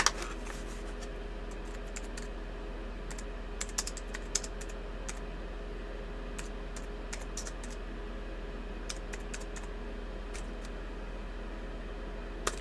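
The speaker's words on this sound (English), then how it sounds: "I'm gonna type it." Typing on a computer keyboard in bursts of soft, rapid keystrokes with pauses between, close and fairly quiet over a steady low hum.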